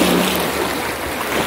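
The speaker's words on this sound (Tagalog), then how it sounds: "Marinig po natin guys ang tinig ng alon." Ocean waves washing against rocks at Sugbong Cogon beach in Malimono, Surigao del Norte, heard as a steady, fairly loud broadband wash of surf with no talk.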